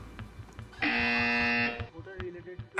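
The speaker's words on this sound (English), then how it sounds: "BBIT Public School has gone for the buzzer" A quiz show contestant's buzzer sounds once, a loud, sustained harsh electronic tone lasting under a second, between stretches of a host speaking in a studio.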